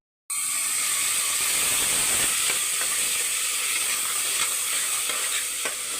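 Chili powder, turmeric and salt are stirred into a sizzling tamarind curry with brinjal in a pan. A steady, loud hiss of frying runs throughout, with light scraping of a spoon against the pan.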